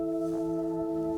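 A synth tone from the Arturia Pigments 3 softsynth, pitched an octave down and sent into reverb: sustained layered harmonic drones at low volume with a soft sweeping wash, giving a hollow, submarine-like resonance.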